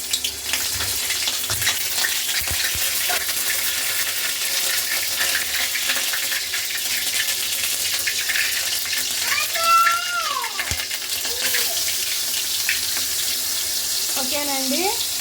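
Ginger paste frying in hot oil with mustard seeds, a steady loud hiss and crackle throughout, close up, with a few brief high squeaks near the end.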